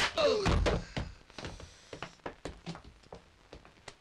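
Blows and slaps land on a man in a Turkish comedy film scuffle, a burst of dull thumps early on followed by scattered lighter smacks and knocks, with some muffled voices mixed in.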